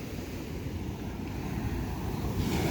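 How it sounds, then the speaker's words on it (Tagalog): Large ocean waves surge and wash continuously near a shoreline where fishing boats are being launched, a steady rushing roar with wind buffeting the microphone and a swell building toward the end. "Tingnan naman kung gaano kalaki ang alon."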